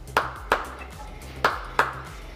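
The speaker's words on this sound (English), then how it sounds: "All you need is to do is just clap two times." Two quick double claps of bare hands, meant to trigger a clap switch for the lights: sharp, close claps in two pairs separated by a short pause, over a faint low hum.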